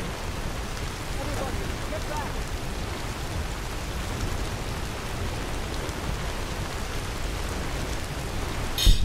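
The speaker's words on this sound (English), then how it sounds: "Can't even hear anything through all the frickin' rain." Heavy, constant rain in a video game pouring down in a hiss of dense drops, unbroken throughout, with a brief louder knock at the very end.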